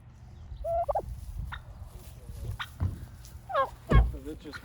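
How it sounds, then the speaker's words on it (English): Several turkeys gobble and call nearby in quick, warbling bursts, with a few louder gobbles toward the end and light background noise. "Turkeys."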